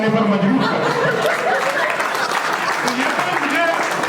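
Audience applause fills a comedy poetry show hall, a steady loud wash of clapping from a large crowd with some chatter and laughter mixed in throughout.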